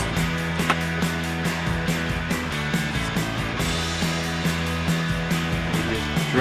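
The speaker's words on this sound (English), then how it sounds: "Dremel cutoff wheel to score this about a third of the way through." A Dremel cutoff wheel scores a miniature crossbow prod, giving a steady, close, high rotary whine with a slightly wavering pitch and a faint grinding edge as the wheel bites into the piece.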